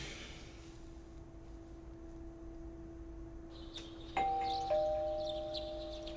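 A doorbell in a video game sounds twice in quick succession over a quiet, steady hum, the second chime following closely on the first and both ringing out clearly.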